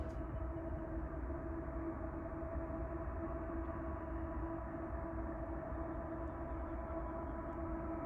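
A low, steady rumble of a distant southbound Union Pacific train approaching Dry Creek Viaduct near Mount Shasta, constant and droning throughout, with a faint high tone near the start.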